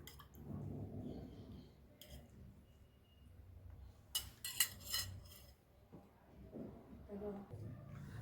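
A spoon works chicken and a few spoonfuls of water together in a bowl, giving soft scraping and wet squelching with a cluster of brighter clinks near the middle, under steady low background noise.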